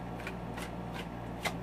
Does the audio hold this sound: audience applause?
no